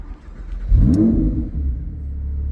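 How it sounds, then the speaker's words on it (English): A Lamborghini Huracan EVO Spyder fires up close by: a sharp starter catch blooms into a loud revving flare that settles into a steady, deep idle rumble. "and the car starts up"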